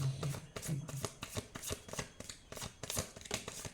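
A deck of tarot cards is shuffled close up, with repeated riffling and snapping card flicks in an uneven rhythm. The sound is quiet and heard alone without talk.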